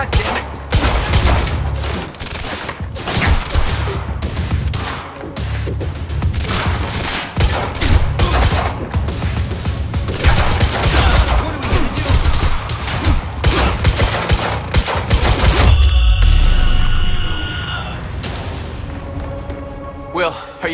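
Rapid bursts of automatic gunfire from soldiers in the video game Quantum Break, a loud sustained fusillade with booming impacts that runs almost unbroken, then cuts to quieter mechanical ringing near the end.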